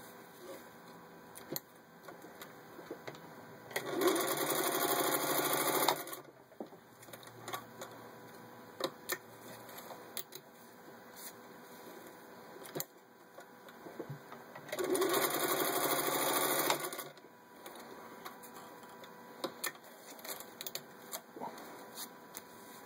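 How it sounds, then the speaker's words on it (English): A serviced vintage 1949 Singer 201-1 sewing machine stitches through four layers of vinyl upholstery in two loud whirring bursts, each about two seconds, separated by quiet handling clicks. "Next I've got 4 layers of vinyl upholstery, and again the same thing, these were already stitched once."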